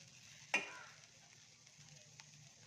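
Okra tossed with crushed peanut in a pan: one sharp clatter of the spatula, then a soft, steady sizzle carrying on quietly with no voices.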